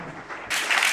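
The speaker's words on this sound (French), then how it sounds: "Peut-être un petit applaudissement pour les deux." An audience breaks into applause for two guests at a bilingual panel talk, a short burst of close, dense clapping that rises suddenly halfway through and holds steady.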